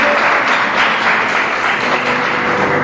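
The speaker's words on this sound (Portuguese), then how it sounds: "Vamos aplaudir o Senhor pela palavra dele." A church congregation applauds at a service, a dense, loud, continuous wash of clapping from many people without talk over it.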